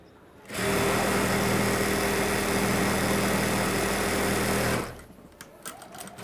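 An industrial sewing machine fitted with a special presser foot runs in one loud, continuous, steady whir for about four seconds, then stops, leaving a few light clicks and handling sounds close by.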